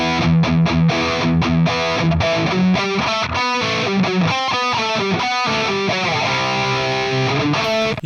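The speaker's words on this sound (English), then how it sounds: "Just going through the minor scale. Applying some palm mute with my right hand." Distorted electric guitar runs up and down a minor scale with right-hand palm muting, playing a fast, steady stream of chugging notes that stays loud throughout with no voices.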